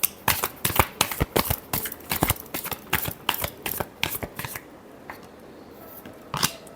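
A deck of tarot cards is shuffled close up in rapid, crisp riffling flicks and slaps, a dense run of sharp papery clicks that thins out toward the end with a final snap.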